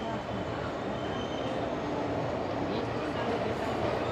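Intercity express train running at night in Bihar, a steady rumbling rattle of carriages on the rails heard from inside, with faint wheel noise and background chatter.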